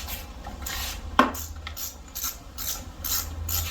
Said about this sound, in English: Now I am going to continue removing the nut.